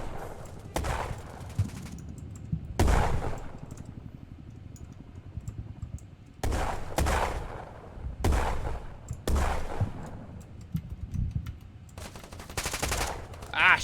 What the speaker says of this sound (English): this M16 is 3-round burst like the original